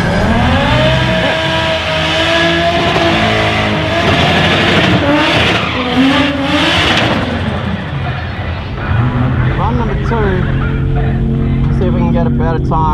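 Toyota Supra with a Haltech ECU upgrade running hard on a dyno, loud engine revving up through the gears with rising whines, then easing off to a burbling idle, with a voice talking at times.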